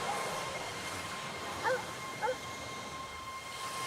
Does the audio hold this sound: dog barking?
yes